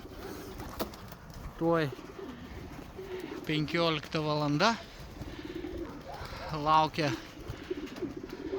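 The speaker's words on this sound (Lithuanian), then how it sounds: "Skraido balandžiai išleisti patinai." Released male racing pigeons coo in several short rolling bursts nearby, over a faint outdoor background, while someone speaks briefly between the calls.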